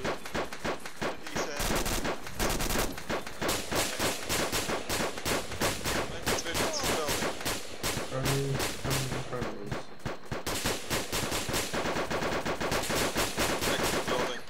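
Rapid bursts of automatic gunfire in a military video game, dense and loud, firing almost continuously with short gaps, near and dominant throughout.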